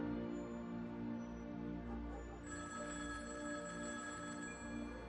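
Telephone ringing indoors at night, a faint steady electronic ring under a low background hum, continuing without a break.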